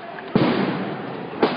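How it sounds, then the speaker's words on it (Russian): Firecrackers thrown at a street march in Donetsk, Ukraine, burst loudly nearby with two sharp cracks about a second apart, set against a dense, continuous wash of crowd and street noise. "Они кидают петарды, дымовые шашки"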